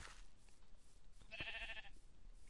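A sheep in the Minecraft video game gives one brief, quavering bleat, faint and set against low background noise, with no talking.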